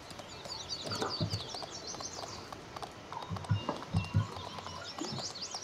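A horse ridden at a walk in Farming Simulator 19 on the Felsbrunn map, steady clip-clop of hooves under chirping birds, fairly close and moderate in level.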